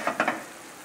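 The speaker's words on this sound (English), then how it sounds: "I'm going to add the wine." Mateus wine hitting a hot pan of frying garlic pork, a few quick sizzling bursts and stirring scrapes up close, settling into a steady hiss.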